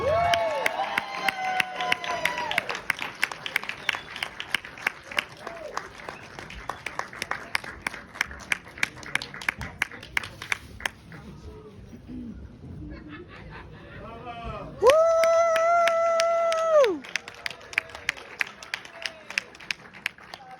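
An audience applauds Debra Messing and Robert De Niro at an early screening Q&A in New York, scattered clapping running through the stretch under a loud held tone and other sounds.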